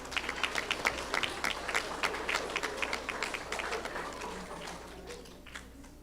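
A school audience claps for fourth-grade students receiving third-quarter awards. The applause is steady and dense with many hands, and it gradually fades toward the end.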